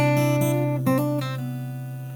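Fingerstyle acoustic guitar playing a song at full speed, bright plucked notes in a quick rhythmic pattern, close and clear with no talk.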